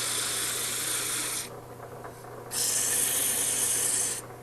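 Sandpaper rasps against turned wooden rings spinning on a lathe, a steady hissy rub that stops for about a second and then comes back at full strength. The sound is close and continuous with no talking.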